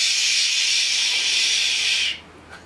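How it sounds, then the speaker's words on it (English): Air escaping in a loud, steady hiss from a bike pump head poorly seated on a kids' bike tire valve, continuing for about two seconds before cutting off abruptly. "psh, that means the air is coming out, not going in"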